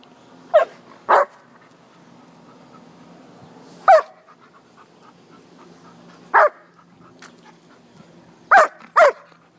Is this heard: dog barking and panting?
yes